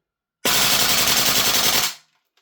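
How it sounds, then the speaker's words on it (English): A VFC AK74M gas blowback airsoft rifle fires on full auto in one loud, rapid burst of about one and a half seconds, then cuts off abruptly. "So I'm going to rip it on some auto now. I'm going to dump the rest of the mag."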